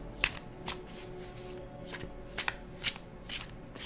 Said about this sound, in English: Let's see how easy they are to shuffle these little cards.